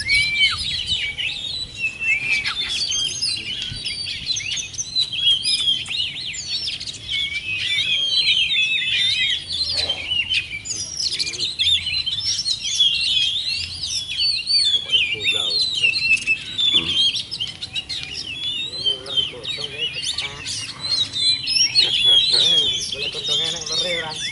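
An oriental magpie-robin in breeding condition sings continuously, a varied stream of high whistles, chirps and trills, close and lively, with faint voices in the background.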